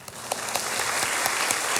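A church congregation gathered for a Sunday afternoon worship service claps together in a dense, steady burst of applause that fills the room at an even level throughout, with no voices rising above it.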